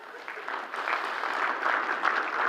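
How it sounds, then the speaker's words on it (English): An audience applauds steadily for a few seconds, the dense, even clapping filling a campus gathering with no voices on top. "Would y'all please clap for them?"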